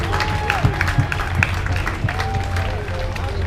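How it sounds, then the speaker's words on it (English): A crowd at the opening ceremony of the 2016 Drone Nationals applauds the racing pilots, scattered clapping beneath ongoing talk and general chatter, fairly close and moderately loud. "if the audience would give a really huge round of applause for our pilots"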